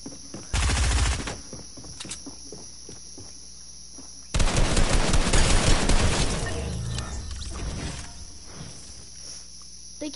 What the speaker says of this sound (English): I can hear someone with a shotgun